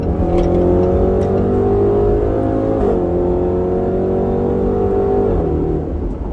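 A 2020 Range Rover Velar SVAutobiography revving hard while driving, a loud sustained engine roar climbing in pitch, dipping briefly around a shift, then rising again, heard close and alone.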